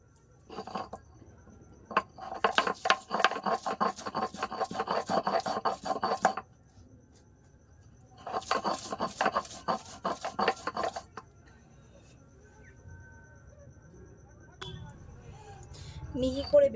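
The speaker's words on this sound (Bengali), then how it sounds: "এটাও একটু ভালো করে বেটে নেব পেঁয়াজটাকে একটু মিহি করে বেটে নেব" Sliced onion is ground fine into a paste by hand, giving two long bursts of rapid rhythmic rasping and scraping strokes, close and moderately loud, separated by a pause, with quieter handling sounds afterward.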